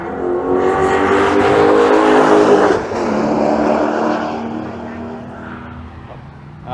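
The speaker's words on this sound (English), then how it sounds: "Time for more lovely V8 noises." V8 racing car engines at Goodwood Motor Circuit roar past, a loud rising and falling engine note with strong harmonics as a car accelerates by, then a second fainter engine fading into the distance.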